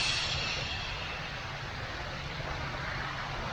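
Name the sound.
voice imitating a shushing sound for the liver in qigong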